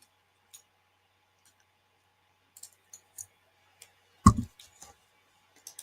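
Small dry clicks and ticks from fingers picking at a roll of double-sided sticky tape, hunting for its end, scattered and faint, with one louder crinkling handling burst near the end.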